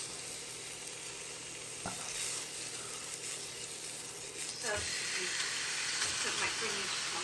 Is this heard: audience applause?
no